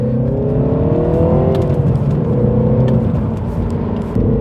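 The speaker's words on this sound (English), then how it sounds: "There's a rev blip. We've got the exhaust popping as well." A 2016 Mini Clubman Cooper S on a wet road with a loud, close engine note rising and falling through a rev blip, with faint exhaust pops and crackles on the overrun.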